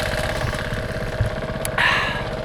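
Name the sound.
boat motor started, like a motorboat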